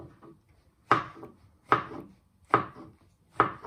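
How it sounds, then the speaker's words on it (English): Mushrooms sliced with a knife on a board: four crisp, evenly spaced chops ring out clearly against near silence, each with a short woody knock. "First you chop them in half and finally slice them"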